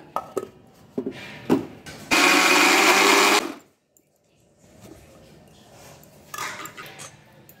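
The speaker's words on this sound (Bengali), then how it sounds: "এই ছোলার ডালটা মিক্সচার মেশিনে পিষে নেব।" Mixer grinder blends chana dal with three chillies, a piece of ginger and a little water: one loud, steady whirring burst of about a second and a half, framed by kitchen clatter and then a quiet pause.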